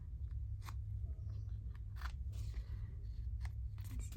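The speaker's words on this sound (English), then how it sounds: "I'm just going to snip those off." Scissors snip paper craft ephemera in a few short, crisp cuts at close range over a steady low background hum, with no talking.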